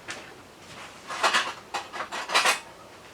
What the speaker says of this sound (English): We'll just get a spoon and mix that up.